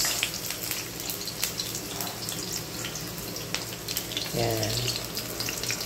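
Onions sauté in soya oil with a steady moderate sizzle, stirred now and then, while a voice speaks briefly and a short pitched sound rises near the end.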